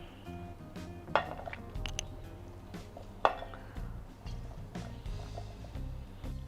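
Paneer cubes, capsicum and sliced onion tossed with masala in a bowl, giving scattered clinks and scrapes of utensil against the dish with a couple of sharper knocks, close by and alone.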